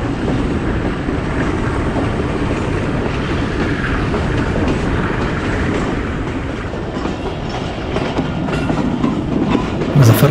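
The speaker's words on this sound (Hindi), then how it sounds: "मुजफ्फरगढ़ पर रुकने के लिए ट्रेन ने लूप लाइन ले ली है।" Mehar Express train running onto the loop line at Muzaffargarh, heard from on board as a loud, steady rumble with wheels clattering over the rails and wind noise throughout.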